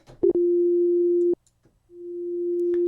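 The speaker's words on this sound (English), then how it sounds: "we're going to go to our sine wave to demonstrate this" A pure sine tone from an FM8 synthesizer holds steady for about a second, cuts off, then returns after a pause with a slow fade-in from a gradual attack envelope, clean and alone with no other sounds.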